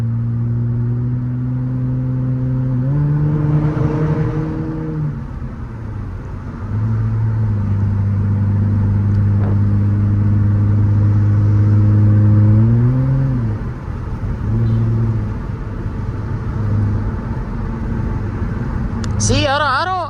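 A Nissan Altima with a straight-piped exhaust revs repeatedly nearby, its loud droning tone rising and falling in several throttle blips, with a short chirp at the end.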